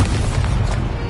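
The Confringo spell blasts in a Harry Potter video game, one loud, dense, rumbling explosion that fills the whole short moment without talk.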